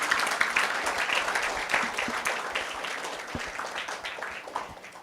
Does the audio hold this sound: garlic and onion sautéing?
no